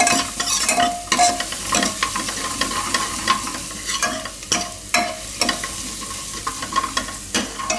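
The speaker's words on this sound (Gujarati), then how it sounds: "તો માખણ આપણું ગરમ થઈ ગયું છે, તેમાં નાખી દેવું લસણ." Garlic sizzles and crackles in hot butter, with a steady frying hiss and occasional scraping stirs of a spoon against the pan.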